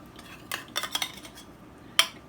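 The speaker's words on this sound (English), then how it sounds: "We're going to throw the onions on." Onions tossed into a pot for barbacoa, heard as a few sharp, close clattering knocks and thuds against the metal, spread unevenly, then one louder clunk near the end, with no talking.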